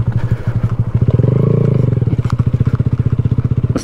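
A 2020 Honda Grom motard with aftermarket fender and levers rides a dirt trail, its small single-cylinder engine pulsing in a steady, loud, close thrum that swells and eases with the throttle, with faint crunches from the ground.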